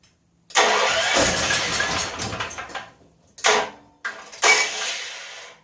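An 8500-watt electric-start generator engine cranks and catches, running roughly for about two seconds before cutting out, then making two more brief start attempts with short bursts of engine noise between pauses.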